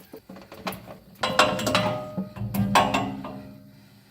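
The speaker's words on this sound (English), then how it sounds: "I just have this little oil filter wrench" A small oil filter wrench works an oil filter off an Oldsmobile, giving close, uneven metallic clicks, scrapes and ratcheting clanks in several bursts that trail off toward the end.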